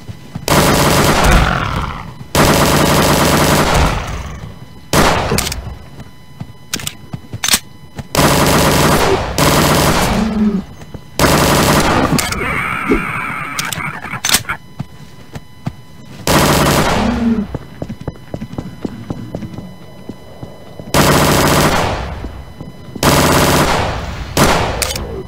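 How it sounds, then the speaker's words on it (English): Repeated bursts of automatic fire from a machine pistol in Garry's Mod, loud and close, coming in long sustained volleys broken by short quiet gaps, with no talking. "Machine gun pistol."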